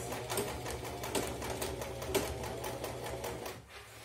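Sewing machine backstitching a seam on an easy crossbody bag: a steady, close mechanical whir with rapid rhythmic needle clatter, running continuously before easing off near the end, with no talking.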